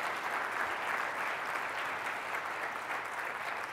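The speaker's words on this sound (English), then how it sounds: "If we could give them a round of applause," A conference audience applauds the event's sponsors, an even, continuous patter of many hands at moderate volume with no break for the whole stretch.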